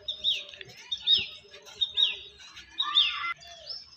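Pet Andhra Kalanka pigeons at a home loft give a run of short high chirping calls, about five clear notes in a loose rhythm, near and moderately loud, with no voices.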